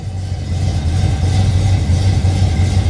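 Car engine fitted with a stainless steel Flowmaster exhaust, a loud deep burbling idle with a low throbbing pulse and slight revving swells, close and alone with no talk.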